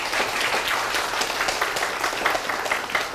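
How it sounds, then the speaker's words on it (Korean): A lecture audience at Korea University applauds after a talk on Qu Yuan and the Chu Ci: a steady, dense patter of many hands clapping at once, close and even, with no talk over it. "정말 열정적인 강의를 해주신 우리 선정기 선생님께 다시 한번 뜨거운 박수 부탁드립니다"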